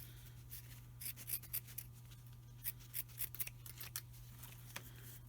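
Scissors snip through thin material for a handmade smudging fan, a quick run of crisp, close cuts in short bursts over a steady low hum, with no voices.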